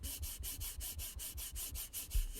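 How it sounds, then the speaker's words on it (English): A Rode XCM-50 USB condenser microphone being rubbed, giving close, quiet scratchy swishes in a quick regular back-and-forth rhythm, about a dozen strokes. "I'm going to rub the mic."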